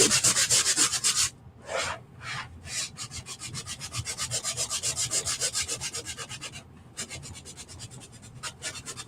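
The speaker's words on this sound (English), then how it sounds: "I'm just going to give it a little bit of a light sanding." A small hand sander lightly sanding a wooden piece, giving close, dry, rhythmic back-and-forth rasping strokes that start in quick bursts and settle into a steady run, with no talking.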